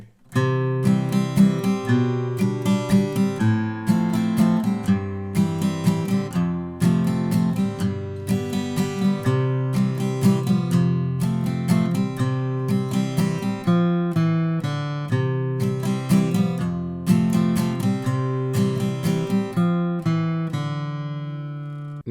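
Acoustic guitar strums a song's break chord progression in a steady, evenly spaced rhythm, played close and fairly loud with no voices, letting the last chord ring out.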